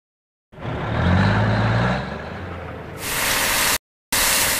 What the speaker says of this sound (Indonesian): Kita perlu mencuci truk pasak.